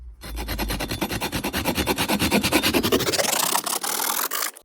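A saw cuts a small section off a wooden dowel, with rapid rhythmic rasping strokes that quicken and grow denser as the blade works through the wood, close and loud without speech.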